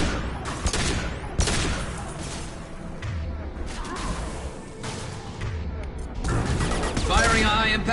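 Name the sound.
gunfire from the video game Mass Effect 2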